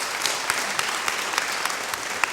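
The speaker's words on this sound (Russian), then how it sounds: "можно аплодировать, Давайте" Congregation applauding during a church sermon: loud, dense, steady clapping from a large crowd, with sharper individual claps standing out throughout.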